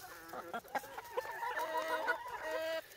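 Hens cluck and honk in a chicken coop, a near, continuous run of overlapping calls with a few sharper squawks, loud and steady throughout.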